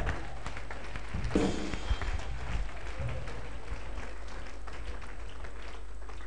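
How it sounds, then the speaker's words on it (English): A church congregation clapping in praise during a prophetic ministry service, dense clapping with a loud burst early on, blended with room noise and a persistent low hum. "Give the Lord a clap of praise."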